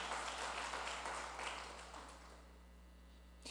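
A church congregation at a Portuguese-language worship service claps together, a brief wash of applause that fades away after a couple of seconds into a quiet hall.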